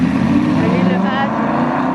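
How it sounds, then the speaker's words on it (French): A car drives past on a street outdoors in the cold, a steady engine and road rumble filling the scene while people talk over it. "Ça fait genre 3 fois que la voiture passe."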